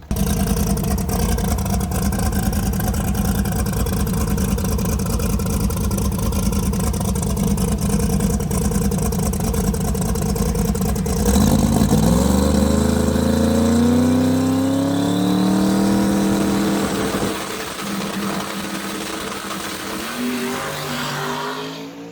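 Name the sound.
car taking off on prototype tires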